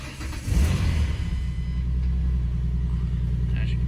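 A 2005 Ford Mustang V6 cranks and catches, then settles into a steady low idle rumble close by, loud and continuous, with a brief burst of revving as it starts.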